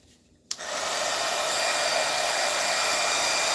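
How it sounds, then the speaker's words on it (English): Loud hot-air heater switches on with a click and settles into a steady, broadband whooshing roar of blowing air that continues unbroken to the end, with no talking. "So this is very loud. This is the heater I use to"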